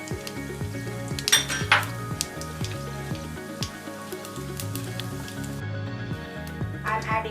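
Cumin seeds sizzle in hot oil in a pan while chole is cooked, with a steady close crackle and clinks of a utensil against the pan, quiet overall, with faint talk under it.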